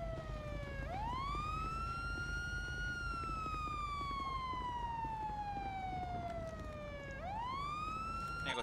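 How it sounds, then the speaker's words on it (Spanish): A police car siren in GTA V wails in long, sweeping rising and falling tones, fairly faint and steady, with one full cycle and a fresh rise near the end; no talk over it. "Apagar las sirenas."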